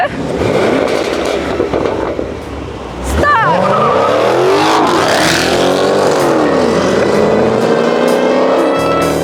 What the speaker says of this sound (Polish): Popaliliśmy gumę, samochód się trochę pokurzył